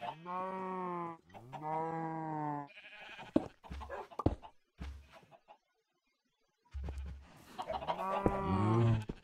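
Minecraft chickens cluck in short repeated bursts inside the video game, interleaved with other blocky farm animal calls and game sounds, fairly loud and close, with a silent gap midway.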